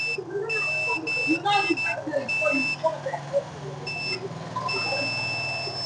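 Repeated high electronic beeps from a continuity tester checking a low-voltage electrical panel, in short and longer bursts, close and clear, with someone talking over and between them.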